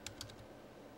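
Quick keystrokes on a computer keyboard while a command is entered in the Windows 7 command prompt: a few light, close clicks at the start, then quiet.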